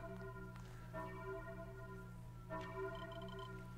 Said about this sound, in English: The sound of the bell keeps ringing in my head